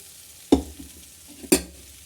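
Food frying in a home kitchen pan after being fried and sautéed for an easy lunch, with two sharp stir scrapes about a second apart over a low, steady background.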